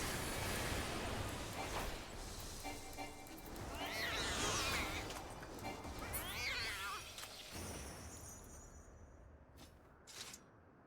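Cats meow in Final Fantasy XIV, two rising and falling meows over busy game sounds with whooshes and impacts, fading to near quiet at the end.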